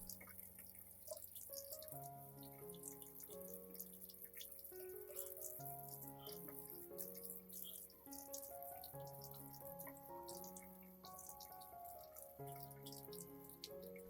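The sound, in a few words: rinsing orchid plant under running tap water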